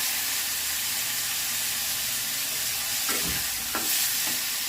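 Chepa shutki, washed dried fish, frying on low heat in a pan with browned onions, a steady dense sizzle with a few soft stirring scrapes near the end.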